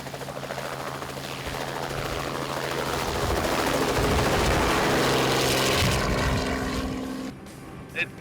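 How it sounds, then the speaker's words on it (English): A helicopter's rotor chops loudly and rhythmically nearby, swelling as it passes and then dropping off abruptly near the end. "he'll be our helicopter pilot for today"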